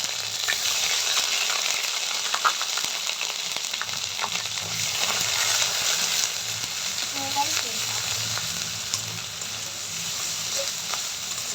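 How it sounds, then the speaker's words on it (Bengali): Ginger-garlic and onion paste fries in a pan, giving a dense, steady sizzle close up with faint scraping of stirring; a voice murmurs quietly underneath at times. "আদা রসুন বাটাটা আর পেঁয়াজ বাটাটা একটু কষাই নেব"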